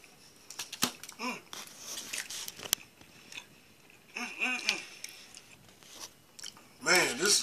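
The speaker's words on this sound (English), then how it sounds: "Let me get another bite." Someone takes close, crisp bites of a McDonald's strawberry cream pie, a fried pastry, and chews it. Crunchy snaps and wet chewing come in short bursts separated by quiet gaps.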